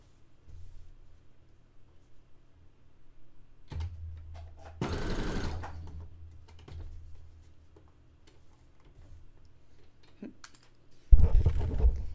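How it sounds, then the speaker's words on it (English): A sewing machine stitching a dress made from bed sheets, short intermittent bursts of motor whir and needle clatter separated by quiet ticking and small handling sounds, ending in a loud final run. "I want to finish sewing this before I do."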